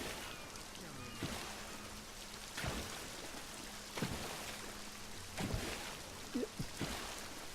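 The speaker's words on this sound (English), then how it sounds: "Well, it seems to be raining in here." Steady rain falling indoors inside a building in the Elder Scrolls Online game, a soft continuous patter punctuated by sharper drips and splashes at irregular intervals, with faint low tones underneath.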